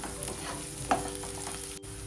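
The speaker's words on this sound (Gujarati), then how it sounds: "લીલા મરચાં ઉમેરીશું, તેને પણ સાંતળી લઈશું।" Green chillies sautéing in a pan give off a low, steady sizzle with a faint stir scrape partway through, a soft continuous frying hiss and no talking.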